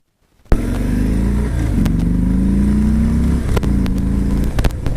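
A 2018 Harley-Davidson Fat Bob 107 with stock exhaust starts up abruptly, then accelerates through the gears with rising engine tones and brief dips at each shift, loud and close amid road noise.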